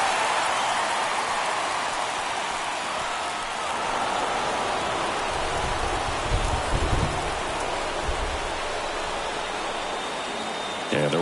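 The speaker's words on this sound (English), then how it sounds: "It feels like we might be headed towards a rain delay if the weather doesn't ease up, Chris" Heavy rain hisses steadily and evenly through a PS4 baseball game between the New York Mets and St. Louis Cardinals, a dense constant wash with a brief low rumble partway through.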